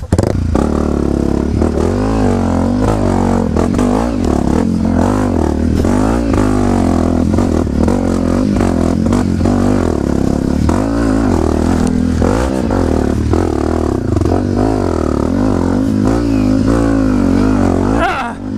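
Brand new Yamaha WR155R motorcycle revving loudly and continuously on a trail ride, its engine note rising and falling up close, with clattering and a brief shout over it.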